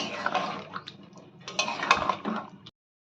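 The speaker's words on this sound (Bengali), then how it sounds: "এবার ভালো করে মিশিয়ে নিতে হবে চিকেনটাকে।" A spoon clinks and scrapes against a pot while chicken is mixed with spices and spice-rinsing water, in busy close metallic taps that stop abruptly near the end.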